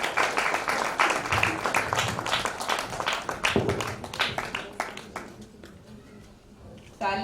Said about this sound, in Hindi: तालियों की गड़गड़ाहट बजती रहनी चाहिए।